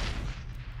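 A grenade goes off in Mass Effect combat, a short, muffled low boom that rumbles for under a second at moderate loudness, with no voices.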